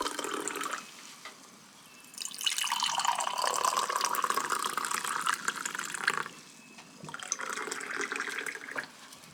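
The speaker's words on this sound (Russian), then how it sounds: "Наливать чай." Hot tea streams from a samovar tap into a cup, a steady splashing trickle that swells, pauses briefly, then resumes, fairly quiet and close with no voices.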